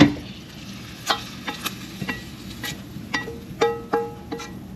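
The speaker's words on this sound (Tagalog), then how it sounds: "together with the tomahawk, guys, I also cook mushroom and onion and a scallop over here" A tomahawk steak sizzles in a pan alongside mushroom, onion and a scallop, with a steady fry broken by sharp spatula scrapes and stirring clicks, close up and without talk.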